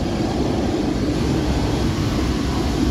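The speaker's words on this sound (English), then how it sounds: "Pretty noisy here, isn't it? Planes, jet fuel" Steady, loud rumble of aircraft at an airport, a broad continuous roar that holds at the same level throughout with no talking.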